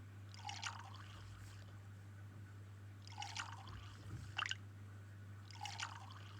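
Liquid pouring in the Toca World game, heard as three short splashing, trickling bursts spaced a few seconds apart over a steady low electrical hum.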